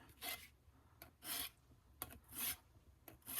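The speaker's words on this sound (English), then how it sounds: "Then you can take your Shinto rasp, or you can use sandpaper too and kind of clean up" A Shinto rasp files the top of a wooden axe handle in a vintage axe rehang, making four distinct rasping strokes in a steady rhythm, close and fairly loud with short pauses between them.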